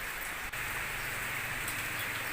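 Heavy rain pours down in a dense, steady hiss that fills the clip evenly, with no pauses and no voices.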